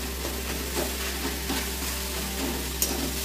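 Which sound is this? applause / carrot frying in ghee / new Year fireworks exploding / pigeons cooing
carrot frying in ghee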